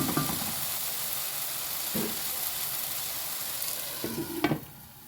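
Tomatoes and spices frying in a pan on a home stove, a steady sizzle and hiss throughout with a few sharp stirring scrapes and clatters near the start, middle and end.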